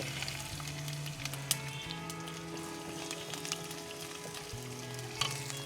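Mustard seeds splutter and pop in hot oil, with a scattering of sharp crackles over a steady sizzle, as a tempering starts for a Kerala-style sardine curry.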